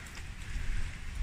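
Rain falls outdoors on a fall day in Mount Forest, Ontario, a steady close patter with low wind rumble buffeting the phone microphone, and no voices.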